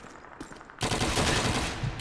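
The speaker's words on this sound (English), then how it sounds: "I love this Thompson so much. Nice 45 caliber bullet makes a pretty good stopping power." A Thompson submachine gun chatters in Call of Duty 2: after a quiet moment, a sustained loud burst of rapid automatic fire runs to the end, with bright cracking shots.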